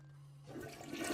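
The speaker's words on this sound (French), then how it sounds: "En plus, la chasse d'eau fonctionne." A toilet flushes nearby, the rush of water surging up after a quiet moment and swirling steadily.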